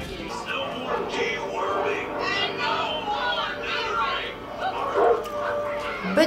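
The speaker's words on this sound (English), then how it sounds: "Those are happy dogs." Excited dogs barking and yipping with some whimpering, a busy run of overlapping barks throughout while people talk over them.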